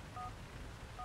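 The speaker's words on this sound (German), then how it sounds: "Ich versuch's mal mit einem Telefonbuchanruf." In the GTA IV: The Lost and Damned video game, a phone dials with two faint, short keypad tones about a second apart over a low background hum.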